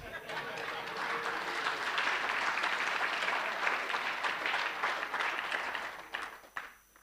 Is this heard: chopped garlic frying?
no